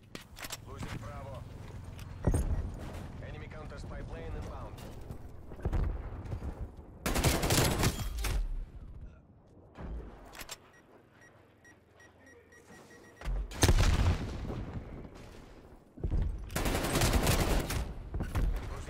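Gunfire from Black Ops Cold War played on PC, likely a KRIG 6 rifle, bursting out in several loud, dense volleys between stretches of quieter game sound, with someone talking over parts of it.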